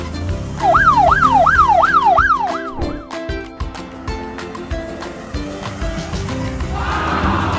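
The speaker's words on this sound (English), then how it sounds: "Oh, it's an ambulance." An ambulance siren whoops in quick, even up-and-down sweeps, loud and close for a couple of seconds. It then gives way to mixed background noise and a rising hiss.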